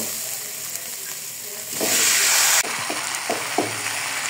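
Mixed vegetables frying in a pan with ground cumin, turmeric and salt in a Bengali home kitchen, a steady close sizzle that swells into a louder hissing burst midway, then settles with soft stirring clinks.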